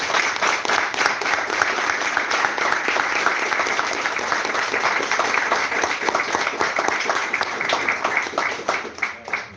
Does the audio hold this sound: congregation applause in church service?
yes